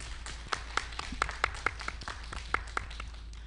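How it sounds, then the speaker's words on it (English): Scattered hands clap at a conference gathering, a sparse, irregular series of sharp individual claps rather than a full ovation, fairly quiet and close, over a low steady hum with no talking. "so we can give you a round of applause"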